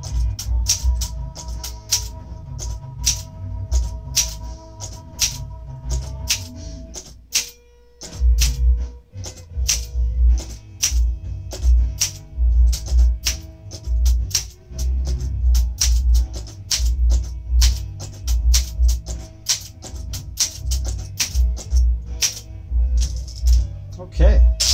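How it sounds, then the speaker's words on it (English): Typing on a 1968 Olympia SM8 manual typewriter: a brisk, uneven run of sharp key clacks with mechanical rattles and a short pause partway through, close and clear. "Finished typing test for this gorgeous 1968 Olympia SM8 typewriter"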